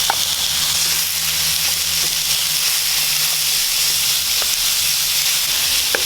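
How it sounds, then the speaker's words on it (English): Minced pork sautés with shallots and aromatics in a pan, giving a steady close sizzling hiss with a low hum underneath and a few faint ticks. "So we are going to saute this just until you don't see any more pinkness to it"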